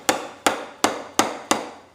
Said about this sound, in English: This particular one is a dead blow hammer.